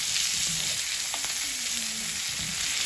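A ribeye steak sizzles loudly in a pan while melted butter with rosemary, garlic, thyme, hot pepper flakes and black pepper is spooned over it, a dense continuous hiss close up with faint utensil sounds beneath.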